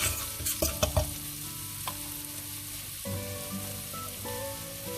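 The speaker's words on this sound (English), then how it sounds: "This is 1 full bulb of garlic that I have finely chopped. Give this all a quick stir." A full bulb of finely chopped garlic sizzling in a pan while being stirred, with sharp scrapes and clatters of the utensil early on, then a steady close frying hiss, no talking.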